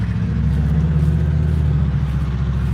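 Loud cars drive and rev close by, a continuous heavy low engine rumble with steady mid-range droning and no pauses.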